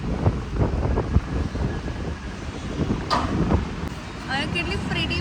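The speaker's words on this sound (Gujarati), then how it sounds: "એટલું બધું પવન છે ને" Strong wind buffets a microphone outdoors at a shoot location, producing a continuous low roaring rumble with gusty surges, and muffled voices are faintly buried underneath.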